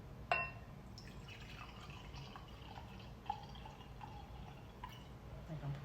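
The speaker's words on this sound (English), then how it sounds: "I think I'm pouring too much." Moscato wine pours into a glass with a soft trickling, filling sound and a couple of faint clinks, quiet beneath someone talking.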